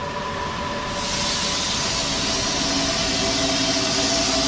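A miniature maglev train model slides slowly through a smoke-filled tube standing in for a transatlantic tunnel, producing a steady, loud, continuous rushing hiss with faint tonal hum that swells after the first second and holds unbroken.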